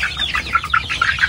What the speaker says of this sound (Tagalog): Pag upgraded native chicken kasi, yan yung advantage. Mabilis na po lumaki.